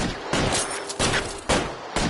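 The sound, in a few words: gunfire in the video game L.A. Noire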